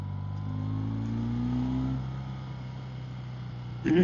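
A BMW Airhead motorcycle on a test ride hums with a steady engine drone that climbs slightly in pitch and then settles, close and fairly loud, with a brief rough burst at the very end.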